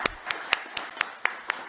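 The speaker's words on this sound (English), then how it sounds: "With a round of applause, I would like to welcome our host and producer" Sparse, spaced claps ring out one by one at a steady, slow pace, sounding like a handful of people applauding at an award ceremony in a quiet hall as a host is welcomed to the podium.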